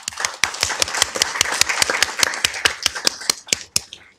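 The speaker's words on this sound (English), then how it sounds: "Let's give them a round of applause." Applause from a city council meeting audience greeting visiting Calvary Chapel students: a thin, brisk patter of claps from a modest group, fairly close and steady for about four seconds before tapering off.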